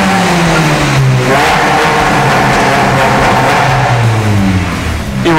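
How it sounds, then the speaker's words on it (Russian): A Ford Focus with a tuned exhaust and a vacuum valve revs loudly and close by. The engine pitch rises and falls in repeated surges, with a deep, rasping exhaust note throughout. "И вот это вот реально чистый кайф выхлопа."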